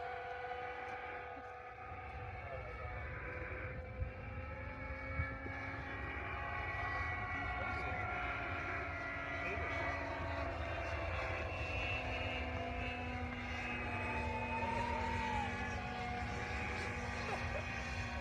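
An RMRC Anaconda radio-controlled plane flies with a steady propeller drone at moderate distance, its pitch rising and falling gently as it turns. Faint outdoor background noise sits underneath.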